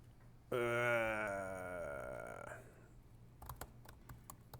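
A sustained, wavering tonal drone fades out, then a handful of crisp, separate keystrokes on a computer keyboard enter a command, close and fairly quiet.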